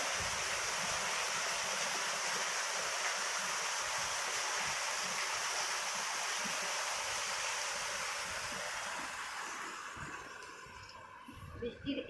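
Heavy rain pours during a late-night storm as a dense, steady hiss of water falling and dripping close by. Near the end it thins out, and a few knocks and rustles are heard.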